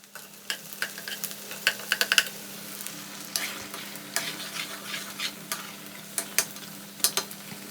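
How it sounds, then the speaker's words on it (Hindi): Masala spices sizzle and fry in a pan while a spoon scrapes and stirs in irregular clattering strokes, steady hiss underneath, no talking. "तो इधर हो रहा है मसाला फ्राई और उधर हलवा भी बन रहा है।"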